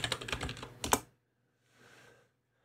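A password is typed on a computer keyboard in a quick, close burst of keystrokes for about a second, then a brief softer patter of keys follows after a pause.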